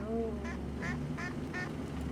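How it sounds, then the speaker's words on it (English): Village ducks quacking in a rural hamlet, a regular series of four or five nasal quacks at moderate distance over a steady low background hum. "These ducks aren't very bright yet."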